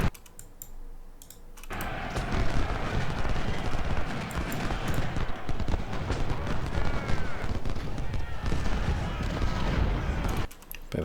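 Massed gunfire from a Civil War battle charge at Chickamauga in the Ultimate General: Civil War game: a dense, continuous crackle of distant volleys lasting most of the clip, with quieter stretches at the start and end.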